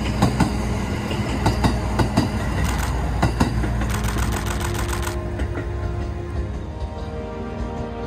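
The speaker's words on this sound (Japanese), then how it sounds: "後ろから列車やってまいりました。" A train on Japan's Kishin Line rumbles past at dusk with a steady rolling roar and a regular clickety-clack of wheels over rail joints, loud and fairly close, with a brief whine that fades partway through.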